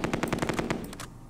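Rapid machine-gun fire in the war game Close Combat 2, a tight burst of about a dozen sharp shots in quick rhythm that stops abruptly, loud and with no talking.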